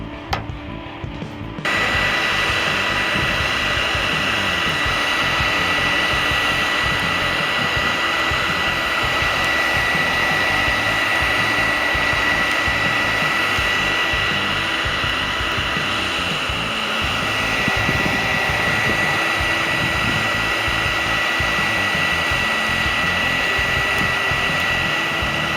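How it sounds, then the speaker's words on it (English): A heat gun or blow dryer aimed at a 4x4 sticker beside the Z71 badge on a Chevrolet Silverado, a loud steady blowing roar that starts after a brief pause and holds unbroken for over twenty seconds. "I'm going to take a heat gun or your wife's blow dryer or whatever you got and apply it to kind of help remove the sticker."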